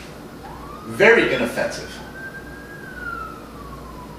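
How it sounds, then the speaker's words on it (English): A distant siren rises and holds a long wailing tone, faint beneath a brief spoken remark. "Hear the sirens?"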